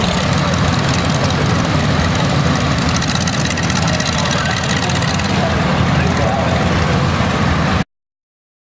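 A Farmall MV tractor engine runs steadily during a tractor parade, a loud, continuous low rumble with outdoor background noise throughout.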